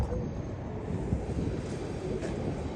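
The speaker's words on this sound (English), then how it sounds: "the train's coming." A freight train near Baton Rouge approaches, a dense, steady rumble and rolling rail noise filling the whole stretch at moderate distance, with no clear talk over it.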